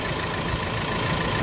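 A diesel car engine idles in a steady, loud, close rumble with an even, unbroken drone and faint knock-like texture, no talk over it.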